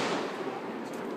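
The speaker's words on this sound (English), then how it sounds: "This is that deep impact one" A large Deep Impact consumer firework bursting during a home fireworks display, heard as a brief, dense, crackling roar that fills the moment with no talk over it.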